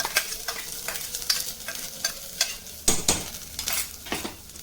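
Mustard seeds, curry leaves, green chilli, coconut and ginger are stirred in a hot pan for navratna sundal. A steady sizzle runs under close, irregular spoon scrapes and taps, with no voices.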